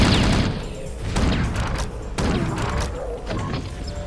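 Gunfire in the video game Chasm: The Rift: a rapid, loud barrage of shots and booms that overlap continuously, with sharp bursts standing out.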